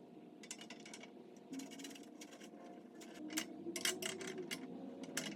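Clicking, ratcheting metal-on-metal as a bicycle bottom bracket is threaded into a cargo bike frame, a run of rapid ticks in short bursts with steady low background hum, close and moderately loud.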